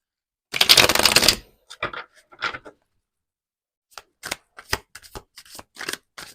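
Tarot cards riffle-shuffled in a dense, loud burst, then a series of separate soft card snaps and flicks as cards are laid down, with no voice.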